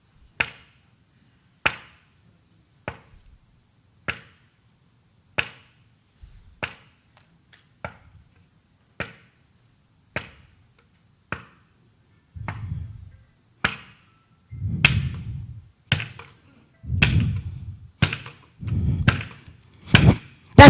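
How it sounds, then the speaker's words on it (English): A long series of sharp, loud bangs, evenly spaced at first, then growing heavier and more booming, like recorded gunshots firing one after another. "Gunshots."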